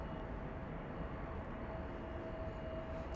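A Cathay Pacific Airbus A350-1000 jetliner passes at DFW Airport, its engines a steady, broad roar that holds evenly throughout the short stretch.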